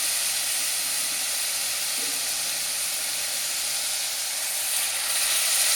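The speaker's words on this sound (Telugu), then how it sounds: "మసాలాలతో పాటు ఈ బియ్యాన్ని కూడా మనం వేయించుకుంటే బాగుంటుందండి." Sona Masoori rice frying with spices in a pot for bagara rice makes a steady, close, even sizzling hiss that runs unbroken throughout, with no talking over it.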